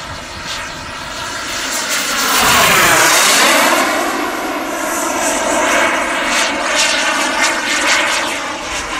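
A HSDJets T-45 Goshawk model turbine jet flies past with smoke on, its loud whooshing turbine roar swelling as it passes close overhead and then holding steady as it cruises away, with no talk.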